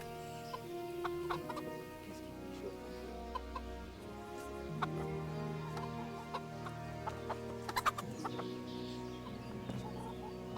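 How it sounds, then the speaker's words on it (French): Chickens in the game Kingdom Come: Deliverance cluck and chatter in a busy flock, with repeated short clucks and a few sharper squawks over a steady ambient background. "Alors est-ce que vous entendez les poulettes là?"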